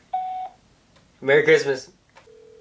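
A telephone call plays a short electronic tone and later a steady ringback tone, with a brief spoken holiday greeting between them.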